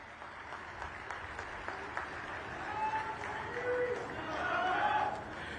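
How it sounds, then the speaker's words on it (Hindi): Audience applause at a state-level Shri Guru Gorakh Nath Prakat Utsav event with Chief Minister Nayab Singh Saini, a steady wash of clapping that swells toward the end with crowd chatter beneath. "मैं माननीय के लिए आप लोगों से निवेदन करता हूं कि उनके एक बार तालियां बजा के"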